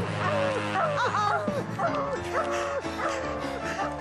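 A cartoon dog yips and barks repeatedly in quick bursts, with whimpering tones, close and loud over a busy animated soundtrack with voices.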